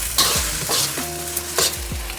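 Rice and egg are stir-fried in a wok for Yangzhou fried rice, a steady sizzle broken by several close scraping, tossing strokes of the spatula against the pan.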